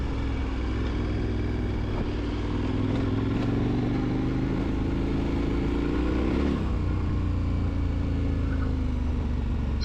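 A KTM 1290 Super Adventure R ridden on a gravel road, its engine droning steadily and loud throughout, rising in pitch with throttle and then easing off, with wind and crunching gravel beneath.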